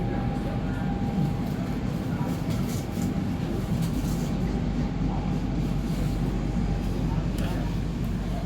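An INKA CLI.22 KRL commuter train runs on the line toward Bekasi, heard from inside as a constant low rumble and hum with faint rail clatter. It holds steady throughout at moderate volume, with faint voices mixed in.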